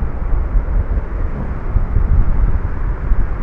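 In the horror game Ao Oni, a heavy, continuous wind drone fills the space, low and rumbling, with small swells but no pauses and no one speaking.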